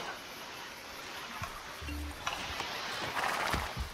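A horse in the video game Assassin's Creed Brotherhood makes a few short clip-clop hoof sounds and a faint whinny amid low game ambience, with a voice speaking briefly.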